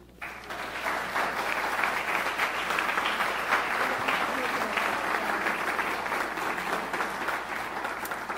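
Sustained audience applause greeting President Barron at the opening of an honors, scholars and fellows house, a dense, steady clapping from a large crowd that swells quickly and holds at an even level throughout.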